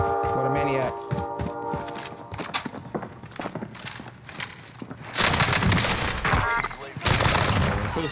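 Gunfire in a video game shooter: scattered sharp shots and crashes among game effects, getting louder and denser toward the end, with speech in places.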